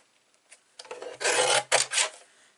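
Cardstock card being trimmed on a paper trimmer, a few short raspy sliding strokes that grow louder, close by and with no voices.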